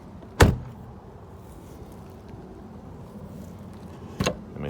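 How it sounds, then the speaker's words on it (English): The heavy door of a 1998 Mercedes-Benz E320 shuts with a solid, low thud close by, followed a few seconds later by a second, softer door thump over a faint background hum. "And listen how solid this door is."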